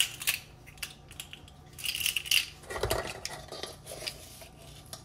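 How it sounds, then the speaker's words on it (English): A teaspoon of baking powder goes into a bowl in a home kitchen, with light metallic clinks of the spoon against dishes and a soft tap and scrape, close and fairly quiet. "now we're going to add a teaspoon of baking powder"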